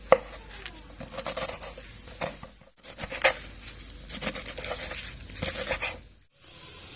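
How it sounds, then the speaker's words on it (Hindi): A knife chops through mustard greens (saag) with their stalks on a board in quick, irregular bursts of crisp cuts, close and distinct, with short pauses between runs. "बस इसी साइज में हमने साग को काट लेना है।"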